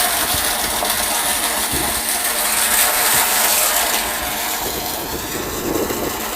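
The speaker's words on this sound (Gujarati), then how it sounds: "પાણી ચાલુ બંબાકાર" Water gushes from a tap into a tank at a farmhouse near a highway, a continuous, fairly loud rushing hiss that holds steady throughout with no voices.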